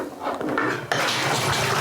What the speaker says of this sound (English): Oops, dropped the spoon.